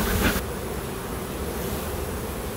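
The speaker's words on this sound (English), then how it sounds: "A lot of bees in here, so this one's not going to hurt this colony to split it up some." Honeybees buzz in an open hive colony as a dense, steady hum of many insects, close and continuous, with a brief thump at the start and no talking.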